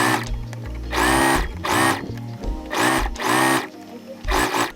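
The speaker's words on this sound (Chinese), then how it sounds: "等一下要一口气缝过去" A sewing machine stitching through layered fabric of a sleeveless top, running in four or five steady whirring bursts with brief pauses between, close and loud.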